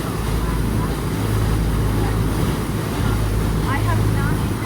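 A tour boat motors through the Upper Dells toward Witch's Gulch, its engine a steady low drone with wind buffeting the microphone and faint water wash, a few distant voices beneath.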